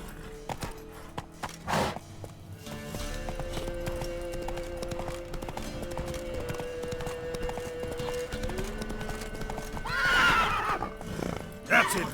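Roach, a horse in the video game The Witcher 3, gallops with steady clip-clop hoofbeats and snorts, a whinny near the end, over a continuous game soundscape.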